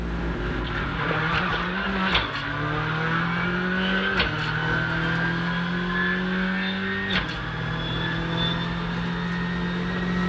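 A Rally2 rally car launches onto an asphalt stage at the 2022 Rallye Vosges, its engine droning loud and close and rising in pitch, with three quick gear shifts marked by brief drops in tone.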